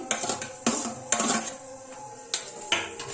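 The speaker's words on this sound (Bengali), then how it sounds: "একটু মাখিয়ে নিচ্ছি সবগুলোকে" Chopped onion, cucumber and green chilli mixed with boiled chickpeas for chaat, a spoon clinking against a metal bowl in several sharp, irregular scrapes and knocks, close and clear with no talking.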